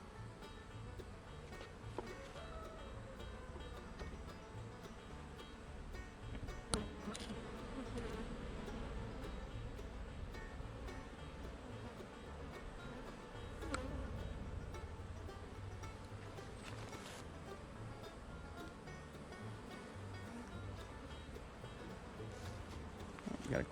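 Honey bees buzzing steadily around a top bar hive while nucs are moved into the full hive, a dense continuous hum close by, with occasional handling knocks.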